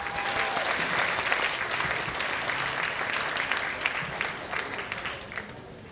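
Audience applause for Samuel Cho at a vegan peace event in Chicago, a sustained wave of clapping from a large crowd that gradually thins and fades toward the end.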